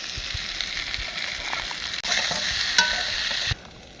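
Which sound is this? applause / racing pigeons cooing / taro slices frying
taro slices frying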